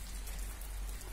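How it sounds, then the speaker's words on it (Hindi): Light drizzle falls steadily, a soft, even patter of rain close by with no voices. "देखो कैसे बारिश हो रही है, रिमझिम रिमझिम।"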